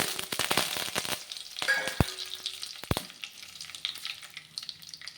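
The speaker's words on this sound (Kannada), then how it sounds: "ಅದಕ್ಕೆ ಇವಾಗ ಕರಿಬೇವು ಹಾಕ್ಕೊತೀನಿ." Curry leaves crackling and sizzling in hot oil with mustard seeds for a cluster bean palya, with a busy spatter of sharp pops, a few loud snaps and a steady frying hiss close by, no voices.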